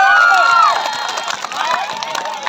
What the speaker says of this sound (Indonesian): tepuk tangan benar 100.